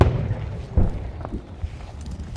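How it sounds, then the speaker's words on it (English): Outgoing artillery fires in a Ukrainian war zone, heard as dull, distant booms and thuds, with a couple of stronger low thumps over a murky background. "we heard the sound of outgoing artillery fire"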